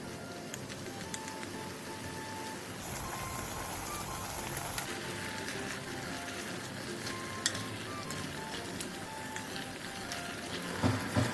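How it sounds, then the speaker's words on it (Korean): Pork front leg meat stir-frying in a pan with kimchi and sugar for kimchi stew, giving a steady close crackling sizzle throughout with a few sharper clicks and clatters near the end. "고기의 겉면이 어느 정도 익으면 김치, 설탕 2분의 1을 넣고 5분 정도 볶아주세요."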